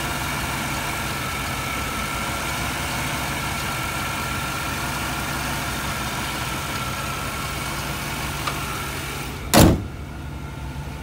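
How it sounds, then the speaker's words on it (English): A stock 305 V8 in a 1990 Chevrolet Caprice Brougham idles with a steady, even drone throughout, and a single sharp bump from a door or window rises near the end. "A 305 stock motor, running great."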